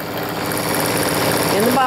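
A Solaris embroidery machine sewing with a pre-wound bobbin gives off a steady, loud mechanical hum and rattle that holds constant throughout.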